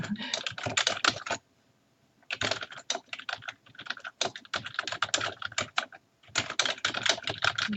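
Fast, continuous typing on a computer keyboard during a typing test, dense clattering keystrokes in long runs broken by brief pauses, close and clear.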